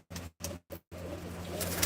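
Pigeons coo at Jassi Madhpur's pigeon farm near Samrala, where they are kept in large mesh coops. Three short, close coos come first, followed by a longer, steadier cooing phrase.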